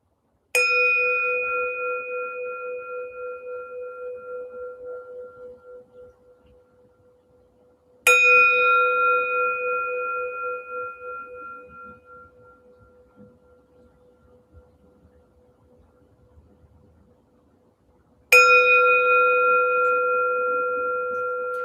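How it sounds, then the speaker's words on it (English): A meditation bell struck three times at spaced intervals, each a clear, loud ring with bright overtones that slowly decays into a long fading hum before the next strike, alone in silence. "So let's begin with a bell."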